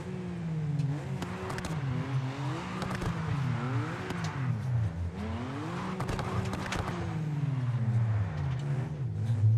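A school bus engine in the BeamNG driving game revs and wavers as the bus drifts, its droning tone rising and falling continuously with tire scrubbing and loud sustained mechanical roar throughout.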